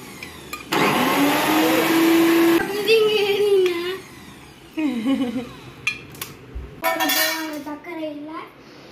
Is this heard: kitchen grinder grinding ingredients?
yes